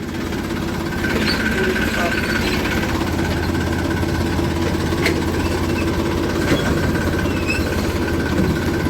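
A tractor engine idles with a heavy, low, steady rumble and a mechanical knock, running continuously and close by while a person talks over it.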